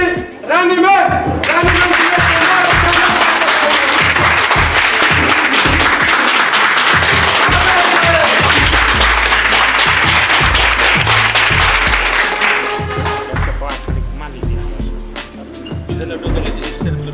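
An indoor audience at a health and wellness program applauds loudly to welcome a speaker, dense continuous clapping that holds strong for most of the span before thinning toward the end.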